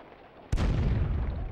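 Game gunfire in The Punisher on PS2: after a quiet low hum, a single loud, sharp shot bursts out and leaves a heavy, sustained rumbling roar.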